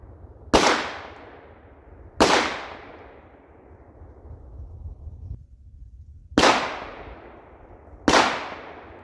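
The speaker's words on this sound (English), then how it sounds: "We'll load up 3 more rounds, get even closer." .50 Beowulf rifle rounds fired at a solid aluminum target on an outdoor range: four loud, sharp reports spaced a couple of seconds apart, each with a long ringing decay, no talking.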